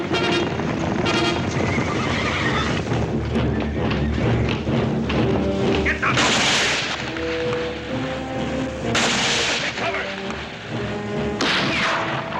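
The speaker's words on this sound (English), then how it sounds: "Hey, Paul, the horses." Several horses whinny loudly in bursts amid thudding hooves and clip-clop in a Western setting. The neighs are close and repeated, and a voice is briefly heard between them.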